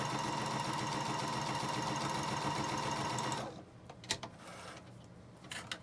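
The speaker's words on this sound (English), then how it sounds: "I'm stitching down one of the sides on the right side of the fabric" Sewing machine stitching a fabric seam, a close, steady rapid mechanical whirring for about three seconds, then stopping, followed by a few faint clicks and handling noises.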